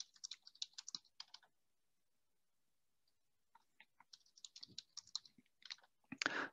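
DNS server settings being entered on a computer keyboard: brisk runs of light, close key taps, then a few seconds of silence, then another burst of typing ending in a louder thump or rustle.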